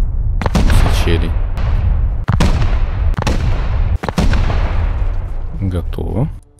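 Repeated loud booming blasts with sharp attacks and decaying rumble, several explosions in quick succession, dense and close, in the video game Rust.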